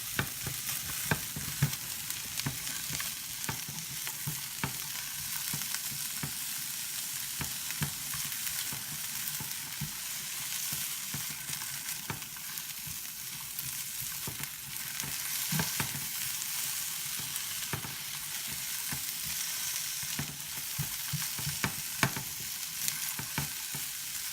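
Onions stir-fry in a pan with a continuous close sizzle and crackle, punctuated by frequent sharp scrapes and taps of a utensil breaking them up, with no talking.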